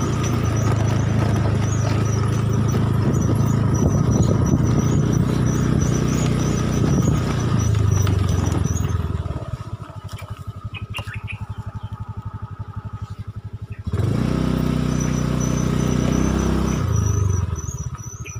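A motorcycle engine drones steadily up close, dipping to a quieter idle midway before revving back up, with road rumble throughout.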